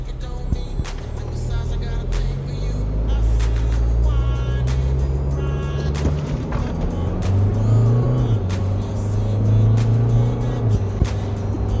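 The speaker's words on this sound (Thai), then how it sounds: "เวลาเปลี่ยนเกียร์ในชิปทามันจะเร็วขึ้นนะครับ" A 2023 Isuzu Mu-X with a 6-speed gearbox fitted with modified racing gears accelerates hard from inside the cabin, its engine droning and rising steadily with pitch changes as gears shift, loud and continuous throughout.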